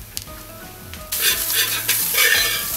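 Shallots, green chili, ginger, garlic and curry leaves sautéing in coconut oil in a pan, a sudden loud sizzle and stirring bursts after a quiet start, close up.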